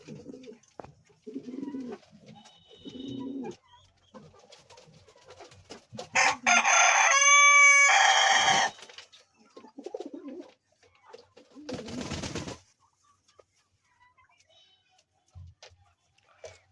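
Fancy pigeons at a sale coo and call in short bursts, including one long loud crowing call, with quieter clucks and a few voices nearby.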